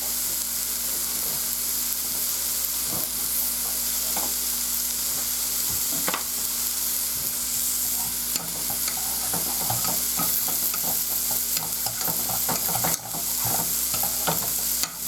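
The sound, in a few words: steak searing in a pan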